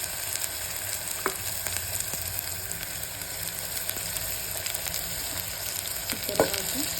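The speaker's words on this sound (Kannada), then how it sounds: "ಅದಾದಮೇಲೆ ಮಟನ್ ಒಂದೊಂದು ಪೀಸ್ ಈ ಥರ ಹಾಕಬೇಕು." Mutton pieces are dropped one by one into a hot pan of oil for a daba-style mutton curry, giving a steady, dense sizzle with a couple of soft placement knocks and no talking.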